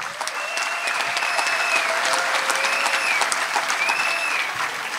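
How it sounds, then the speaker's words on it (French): A large crowd at a political rally in Abidjan applauds the city's mayors, a dense, steady wash of clapping that holds at full strength for the whole stretch, with whistles and cheers over it. "Je voudrais qu'on acclame les maires d'Abidjan."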